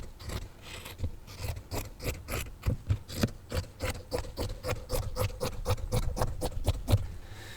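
Scissors slice through cotton fabric pieces for a cardigan in a steady, rhythmic series of crisp snipping strokes, close and moderately loud, repeating roughly every third of a second with no talking.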